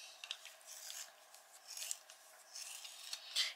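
Redwood coloured pencil being sharpened, a soft, close scraping rasp in several short bursts with brief pauses between, fairly faint and with no talking.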